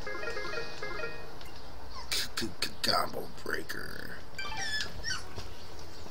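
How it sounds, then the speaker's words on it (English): A puppy squeaks and whimpers in the background while a person talks, producing a few short high-pitched squeals scattered between the speech, fairly faint and partly masked by the voice. "If you hear the squeaking in the background, that would be my puppy trying to get my Culvers."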